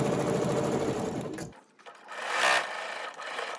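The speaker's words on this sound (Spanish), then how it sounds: "voy a pasar la over para darle la terminación" Overlock serger running along a blouse seam to finish the edge, a fast, dense buzzing whir that cuts off abruptly after about a second and a half, followed by soft fabric rustling close by.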